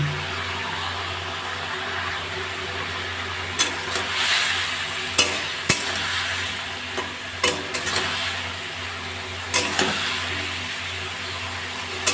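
Previously fried potatoes are tipped back into a pan and stirred. A steady soft sizzle is broken by sharp clatters of the spatula against the pan at irregular moments.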